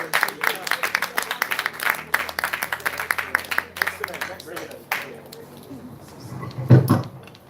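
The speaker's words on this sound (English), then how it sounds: "Give one more round of applause, please." A workshop audience claps for a professor's presentation, dense clapping filling the first five seconds before thinning into scattered claps, a low thump, and murmuring voices.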